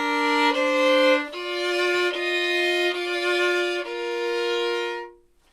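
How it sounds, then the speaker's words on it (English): Violin bowing a slow melody in double stops, two notes sounding together on each stroke, several sustained pairs in a row that ring alone, close and clear, before fading out. "I'm going to put the notes together as double stops but still retain that melody."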